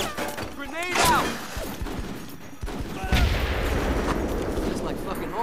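In a video game, a grenade blast and bursts of gunfire crack loudly, with a sharp impact near the start and another heavy burst midway, while voices talk over the combat.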